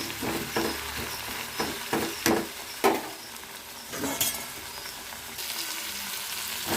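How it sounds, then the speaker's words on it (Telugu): Tomatoes and guava pieces cook in a pan with a soft, steady sizzle, broken by several sharp clinks and stirring scrapes from a utensil close by. "టమాటాలు మగ్గుతున్నాయండి, జామకాయ ముక్కలు కూడా వేసుకున్నాను"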